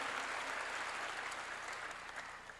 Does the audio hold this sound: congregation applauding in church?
yes